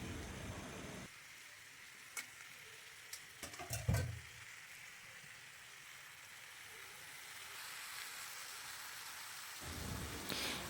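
Desi chicken meat being stirred and fried in a pan gives a soft, steady hiss of sizzling, broken by a few scraping clicks of the spoon and a brief louder stir partway through.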